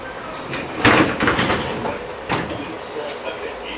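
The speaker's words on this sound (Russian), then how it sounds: "Осторожно, двери закрываются." Doors of an LVS-86K tram on route 9 in Saint Petersburg thud and slide shut in a couple of sharp knocks, close and fairly loud, with a recorded announcement voice and cabin hum behind.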